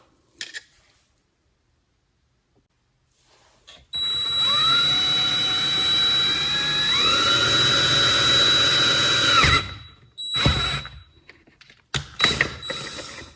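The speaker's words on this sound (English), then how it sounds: "I'll use a 1/4 inch drill, put a hole in" A power drill with a 1/4 inch bit whirs loudly and steadily for several seconds, its pitch shifting as it bites into a Bachmann Dash 9 model locomotive, then stops, followed by a few clanks and knocks.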